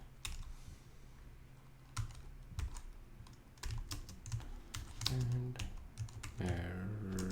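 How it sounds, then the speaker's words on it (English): Slow, uneven typing on a computer keyboard, with single key clicks and short bursts spaced apart and heard up close. A voice speaks briefly partway through. "So I'm typing very slow because I'm spelling that out in my head"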